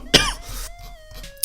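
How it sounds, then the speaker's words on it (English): A single sharp cough from one person, close and clear, followed by a quieter throat-clearing rasp against a faint background tone. "Excuse me with the coughing"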